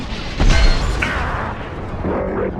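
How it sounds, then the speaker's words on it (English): An explosion in a video game, a loud low boom that swells near the start and trails off into rumbling debris and a fainter mechanical rattle, with no voices. "Oh, it exploded."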